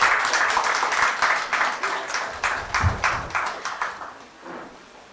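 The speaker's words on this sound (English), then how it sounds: "Can we welcome him with a huge round of applause?" An audience at a literature and art festival session applauds a welcomed guest, a dense burst of many hands clapping that stays loud at first, then thins out and fades toward the end.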